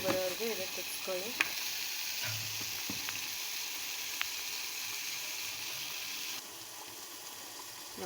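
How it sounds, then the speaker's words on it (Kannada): A coconut masala curry for soybean palya bubbles and sizzles steadily in a pan at close range, with faint background voices and a slight drop in level near the end. "ನೋಡಿ, ಈ ಥರ ಕುದೀತಾ ಇದೆ."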